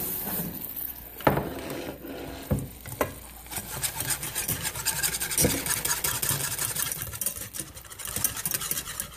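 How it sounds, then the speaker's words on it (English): A whisk scrapes steadily through a sauce in a pan as butter is worked in. The rhythmic stirring and clinking are close and continuous, with faint sizzling underneath and a few sharper knocks against the pan. "mix that in slowly with the whisk"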